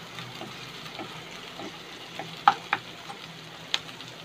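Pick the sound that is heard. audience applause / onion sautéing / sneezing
onion sautéing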